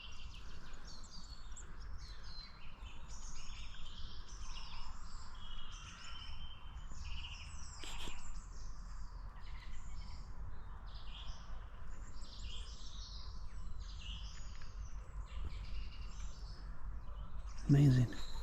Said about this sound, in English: You probably can't see the bird table either, but it's covered in birds.